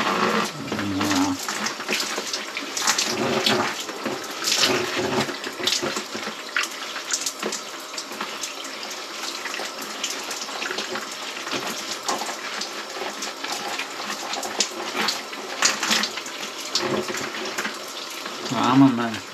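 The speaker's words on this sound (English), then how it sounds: "right now simply consists of washing my hair" Shower water running steadily while hair is being washed, a continuous close hiss with splashing fluctuations throughout.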